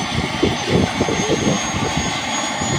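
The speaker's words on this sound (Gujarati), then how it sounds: "હવે હેલિકોપ્ટર ચાલુ થાય છે ને તમે જો એનો અવાજ સાંભળો" A helicopter engine spins up nearby at a wedding gathering, a loud steady turbine roar with rhythmic rotor thumping, close and continuous throughout.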